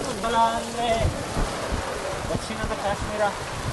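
Rain falls steadily at the Talakaveri temple in Coorg during chilly weather, a constant hiss with a few heavier thuds, while people talk over it.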